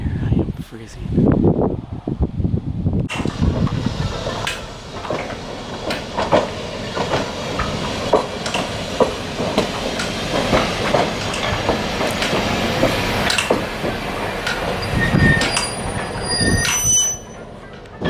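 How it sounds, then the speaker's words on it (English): A train rolls past at a railway museum, loud and close, with rumbling wheels, rhythmic clacks and high wheel squeals, while people talk nearby. "There's a train there."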